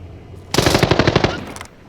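A rapid burst of automatic gunfire rings out in an extraction shooter video game, loud and close, lasting about a second before cutting off, with no voices.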